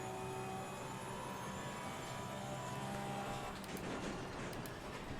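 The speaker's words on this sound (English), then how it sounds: "Wow, this car feels and sounds totally different." A race car in the racing video game Assetto Corsa Competizione drones with a steady engine tone and shifting pitch, loud and continuous throughout, with a rougher burst near the end; no talking.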